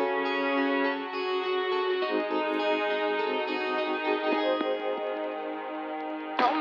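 Vocals run through a telephone-style filter in Pro Tools, a thin, narrow-band sustained sung phrase with a slightly distorted, boxy tone, continuous for several seconds and ending abruptly.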